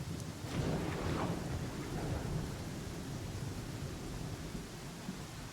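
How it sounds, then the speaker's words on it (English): A thunderstorm in Pathfinder: Kingmaker, with steady heavy rain hissing across the scene and a rumble of thunder rolling through early on, dense and unbroken throughout. "Actually stuck in a fucking storm here."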